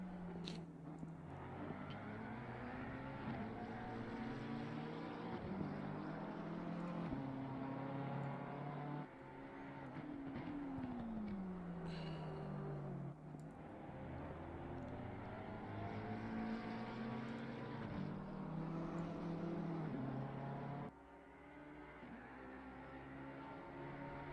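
Race cars in a video game lapping the Hungaroring circuit, a continuous loud engine drone whose harmonics climb and dip through gear changes, with a brief downshift sweep midway and a sudden drop in level near the end.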